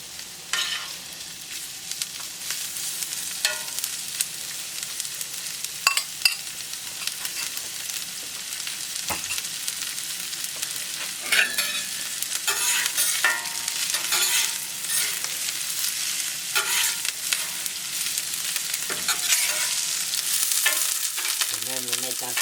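Onions frying in a hot pan, giving a steady bright sizzle throughout, with occasional scraping knocks as they are stirred close by.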